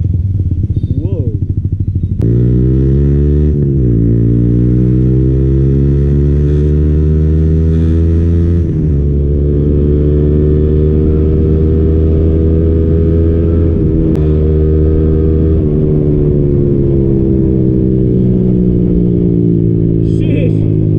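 Yamaha MT-15 motorcycle accelerating hard in third gear, a loud, close engine note climbing steadily in pitch with a brief dip at a shift, running continuously with no talk over it.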